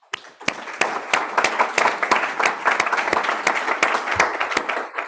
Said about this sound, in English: I'll just ask for a round of applause for our panelists